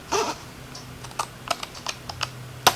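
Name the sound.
long craft scissors cutting paper card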